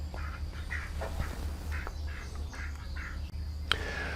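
Pet ducks quack repeatedly while waiting to be fed, rhythmic nasal calls in short bursts over a steady low hum, close and moderately loud, with one sharp click near the end.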